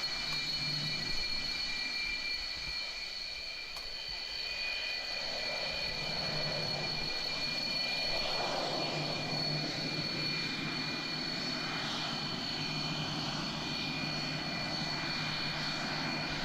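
A Sukhoi jet aircraft performs a flying display, its engine heard as a steady, fairly distant roar with a broad rushing tone that rises and falls gently.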